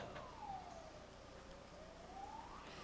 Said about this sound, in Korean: 화재 진압대가 사이렌을 울리며 신속하게 도착하고 있습니다